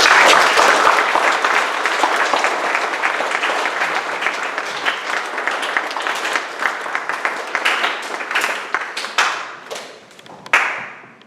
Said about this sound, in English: we need to give him applause, because he has done it all